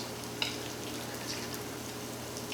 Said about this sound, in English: And you get that amazing sizzle.